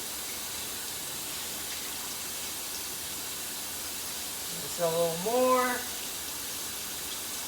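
Cool tap water runs steadily into a kitchen sink while breaded pork chops are rinsed, a constant close hiss with a brief spoken phrase over it partway through.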